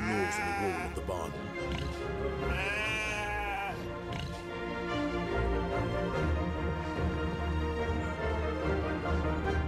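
Sheep bleat in the Animal Farm video game: several wavering, drawn-out cries overlap and repeat in a chant-like chorus, loud and close, against a steady background bed.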